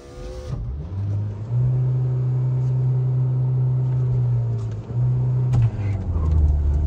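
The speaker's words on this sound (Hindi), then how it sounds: "परफेक्ट लॉन्च दोनों गाड़ी का इनिशियल से आगे भाई।" A Skoda Kushaq SUV and a Skoda Slavia sedan, 1.0 TSI and 1.5 TSI, one Stage 1 tuned and one stock, launch together: a close, loud engine drone that swells into a steady, strained rising tone as the cars accelerate.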